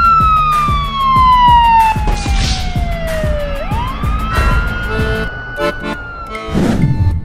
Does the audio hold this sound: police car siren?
yes